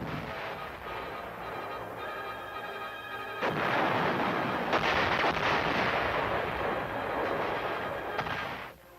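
A 106 millimeter recoilless rifle fires on a test range, the blast arriving as a sudden loud, broad boom about midway that leaves a sustained roaring rumble and rolling echo lingering over steady background noise.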